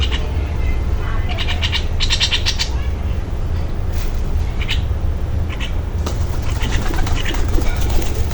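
Pigeons gather at a feeding spot while birds chirp and coo in short bursts over a steady, loud outdoor hum.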